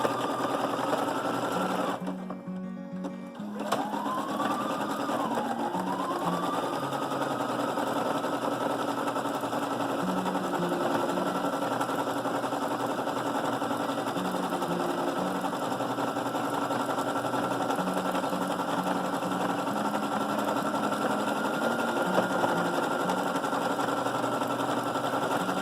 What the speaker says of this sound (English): just doing a zigzag stitch along the edges